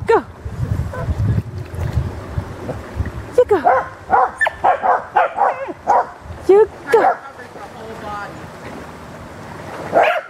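A puppy at the water's edge gives a string of short, high yips and barks, close and fairly loud, with a person speaking over and between them.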